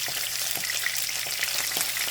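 Food frying in a pan on low heat for a weeknight dinner, a steady soft sizzle with faint crackles and pops running throughout, close and continuous with no talking.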